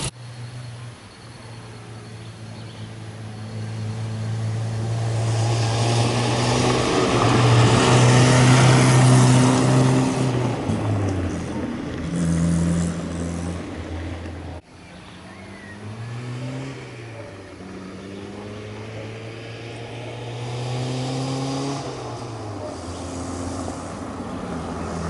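A Mini Austin engine drones and revs while driving, its tone rising and falling through gear changes, loud and close inside the small car, with occasional voices beneath the engine noise.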